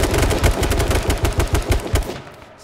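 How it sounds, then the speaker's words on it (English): Rapid automatic gunfire in the video game H1Z1, a loud close burst of evenly spaced shots lasting about two seconds, then trailing off. "I'm shooting. At the smoke grenade."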